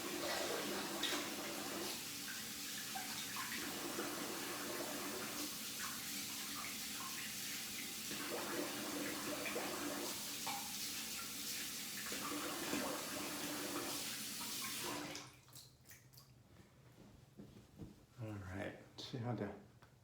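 Tap water runs steadily while soap is rinsed off, a constant close splashing hiss for about fifteen seconds before it is shut off, leaving quieter scattered handling noises.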